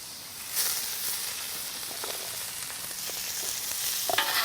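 Peppers fry in melted butter on a backyard flat-top griddle, producing a broad, continuous crackling sizzle that grows slightly busier toward the end, with a few spatula scrapes.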